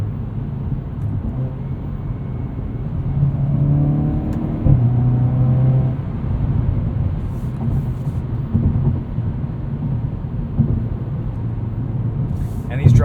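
Engine of a 2021 Hyundai Veloster N with a dual-clutch transmission, heard from inside while driving: a steady, loud rumble with some rising revs, and a voice talking over it.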